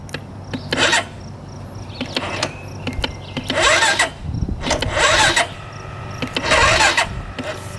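A brand-new budget dirt bike's engine cranks over on its electric starter, several separate grinding bursts of a second or so each, close and fairly loud, with short gaps between them.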